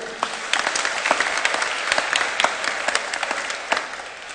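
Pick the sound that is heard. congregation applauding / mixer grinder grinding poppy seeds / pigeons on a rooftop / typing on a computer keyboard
congregation applauding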